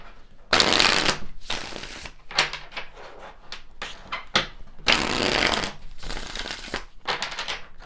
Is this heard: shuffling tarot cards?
yes